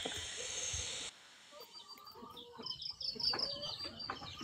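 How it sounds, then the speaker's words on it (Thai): Hens at a laying-hen farm of about 300 birds give scattered, faint clucks and short calls after a hissy opening second, heard at a moderate distance. "เธอเลี้ยงไก่เยอะไหม 300 ค่ะ"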